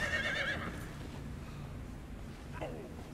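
A horse in Conan Exiles gives a brief high whinny at the start, a fainter second call follows near the end, over low rumbling game noise.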